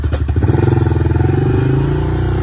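A motorcycle with a straight pipe exhaust starts up, a loud close cranking stutter catching into a rapid, throbbing idle that settles into a steady rumble.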